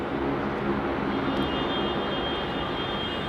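A Virgin Australia Boeing 737-800 jet on flight VA324 lands at Melbourne Airport in heavy rain, its engines a steady, broad roar heard from a distance with no voices over it.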